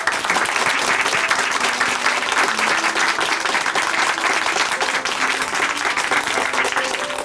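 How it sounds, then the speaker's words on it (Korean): Loud, sustained applause fills a church as the Chuncheon Hanmaum Church congregation claps steadily and densely throughout, with no voices on top. "다시 한번 큰 박수로 응원하겠습니다."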